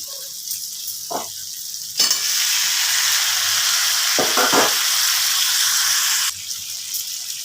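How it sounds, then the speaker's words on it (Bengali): Potato and pointed gourd pieces are stirred into sizzling masala in a pan. A few spoon scrapes come first, then a loud, sustained frying hiss lasts several seconds before easing back to a softer sizzle. "এবার আমি আলু পটলগুলো এর সাথে মিশিয়ে দিচ্ছি"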